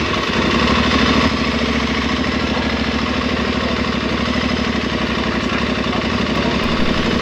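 An Aprilia Tuareg 660 motorcycle engine idles nearby, a steady, close, throbbing rumble that stays even throughout with no one speaking.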